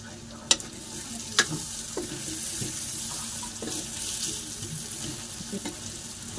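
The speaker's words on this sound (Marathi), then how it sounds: "त्यात आपले वांगी चांगले परतलेत थोडे तेलात" Steady sizzling of stuffed brinjals frying in oil, with a few sharp clinks of a utensil against the pan and soft stirring scrapes throughout.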